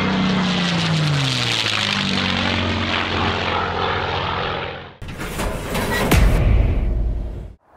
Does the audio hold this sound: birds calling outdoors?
no